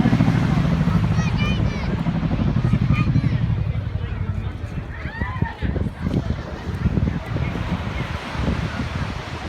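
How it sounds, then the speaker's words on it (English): An RAF Chinook display team helicopter flying at an air show, a loud deep rotor drone with wind buffeting the microphone, the heavy low thrum fading and returning as the aircraft passes, with spectator sounds around. "the 2019 Royal Air Force Chinook display team"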